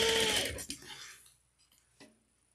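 A sewing machine runs a short burst while stitching and backstitching a seam on a zippered pouch, loud and close for about a second, then fades into quiet with a couple of small mechanical clicks.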